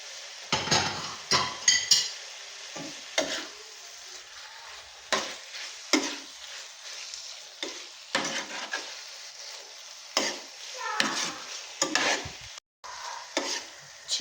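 Chicken pieces with chopped green chillies frying in a pan, a steady sizzle broken by repeated scraping stirs and occasional clinks of a utensil against the pan, close and fairly loud with no one talking.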